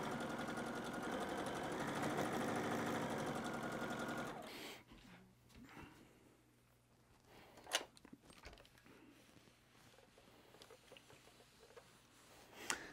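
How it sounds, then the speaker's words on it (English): A sewing machine stitches seams on batik quilt block pieces at a quarter-inch seam allowance. A loud, steady mechanical whir runs for several seconds, then stops, leaving quieter clicks and handling sounds close by. "as we're sewing these together, I was mentioning it earlier, we want to go ahead and see if we can't nest up our seams nice."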